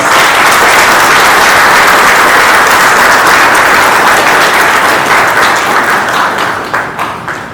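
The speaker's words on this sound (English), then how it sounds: "let us welcome him with a loud round of applause." Loud, sustained round of applause from an audience at a ports ministry session welcoming a new minister, dense and continuous before tapering off in the final seconds.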